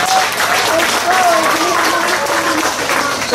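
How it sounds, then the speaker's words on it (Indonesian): A crowd applauding steadily at a New Year's Eve gathering in Penampang, a dense wash of clapping that fills the space while a voice talks over it. "Kita beri dia tepukan dulu."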